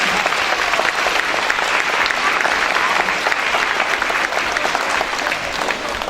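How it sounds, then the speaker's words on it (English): Steady, dense applause from a school assembly audience at a DECA awards gathering, sustained and fairly loud throughout with no break. "let's give them a round of applause."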